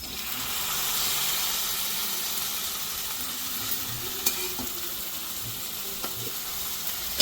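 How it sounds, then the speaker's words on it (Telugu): Chopped tomatoes sizzle steadily in hot oil with ginger-garlic paste and green chillies for a cauliflower masala curry, a close, continuous frying hiss with a few soft stirring knocks and clicks. "ఇప్పుడు మనం తరిగి పెట్టుకున్న టమాటాలు వేసేద్దాం"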